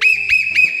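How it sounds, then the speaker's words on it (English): A whistle is blown in three shrill, steady blasts of nearly equal length with brief dips between them, loud and close with no talk. "Take that whistle away from him."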